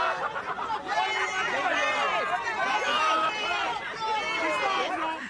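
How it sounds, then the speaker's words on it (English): Supporters celebrate outside in a lively crowd, overlapping excited voices and chatter forming a dense, continuous babble at a moderate distance. "Combs' supporters celebrated with baby oil and cheers."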